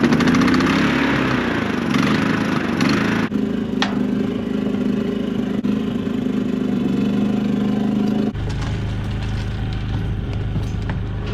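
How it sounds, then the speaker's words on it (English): A generator engine runs steadily at a cattle-working site, a constant mid-pitched drone that holds throughout and shifts to a slightly lower, rougher tone toward the end. "I gotta fire up the generator"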